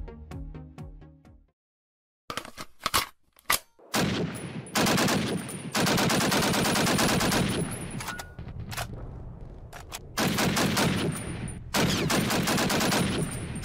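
Call of Duty gunfire, rapid automatic bursts and single shots in loud, dense volleys separated by brief gaps, opening with a short musical sting, with no talking.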